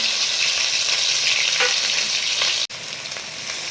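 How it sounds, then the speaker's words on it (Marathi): Onion, garlic, ginger and coconut paste frying in hot oil for masvadi, a loud, continuous close sizzle with a brief break near the end. "त्याला आपण व्यवस्थित तळून घेऊ आपला कांदा आणि खोबऱ्याची पेस्ट तळलेली आहे"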